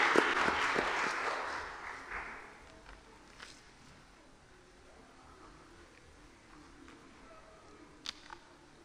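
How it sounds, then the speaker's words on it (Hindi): A church congregation claps to welcome a pastor, with a burst of applause at the start that fades over a few seconds into near quiet, leaving faint room noise and an isolated tap. "इसके लिए आप सबकी जोरदार तालियों में हम वेलकम करेंगे पास्टर नासिर जान से"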